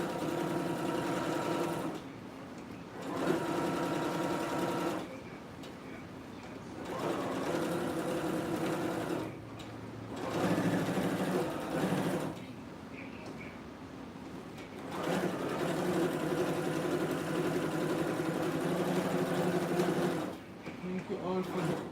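A sewing machine stitches fabric around a circle in long, steady whirring runs separated by short pauses, close and fairly loud, with someone talking in between.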